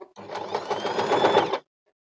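An Usha Janome sewing machine runs for about a second and a half, a close, steady motorized whir of rapid stitching on a buttonhole, then stops abruptly.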